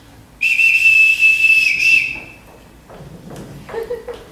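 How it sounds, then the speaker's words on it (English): A sharp, piercing whistle blown as a signal to summon a household, one long sustained blast of about a second and a half, loud and close, fading out before quieter movement and voices follow. "Everyone in this house answers to a whistle."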